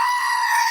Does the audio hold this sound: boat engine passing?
no